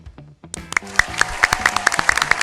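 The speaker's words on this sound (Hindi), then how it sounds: "तुम लोग अपने लिए ताली बजा रहे हो" A quiz show team claps for themselves in a studio, with a scattered burst of sharp, uneven hand claps that builds after a brief quiet moment and then continues in loose rhythm.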